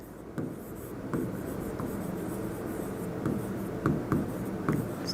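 Pen or marker scratches out an answer during a Class 8 maths lesson on quadrilaterals: short, close scratchy strokes in uneven bursts over a quiet background hum, with no talking.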